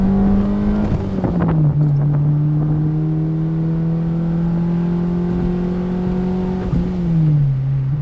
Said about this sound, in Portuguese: Escapamento é bonito. É bonito o barulho